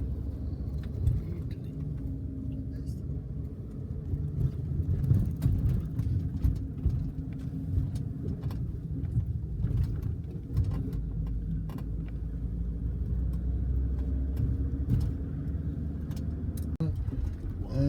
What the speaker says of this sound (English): Traffic here.